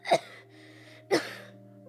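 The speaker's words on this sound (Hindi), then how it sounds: "क्या बात है बेटा, खांस रहे हो?" A boy in a stage drama gives two harsh coughs about a second apart, close and clear, with faint background hum between them.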